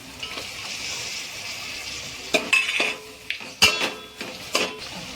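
Mutton pieces are added to masala in a pan and stirred, with sharp metal spoon clinks and scrapes against the pan over a soft, steady sizzle.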